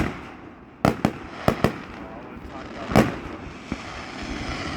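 Fireworks burst in the sky at a 2017 display in Soave, giving a handful of sharp, booming pops spaced unevenly over a steady outdoor rumble, with people talking nearby.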